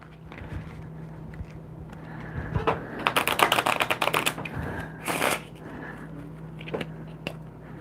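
A deck of playing cards riffle-shuffled several times up close, quick crisp fluttering bursts separated by short pauses, with faint background hum and no talking.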